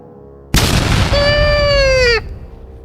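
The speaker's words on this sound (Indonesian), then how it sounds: "Cambuk itu mengenai tubuh Krepa, menciptakan suara ledakan yang mengguncang seluruh desa" One sudden loud explosive boom hits as a whip strikes, followed by a sustained tonal ring with a scream-like edge that holds for over a second before cutting off, leaving a faint low tail.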